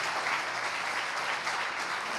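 Sustained, dense clapping from a church congregation, steady and fairly loud throughout with no pause, filling the space evenly.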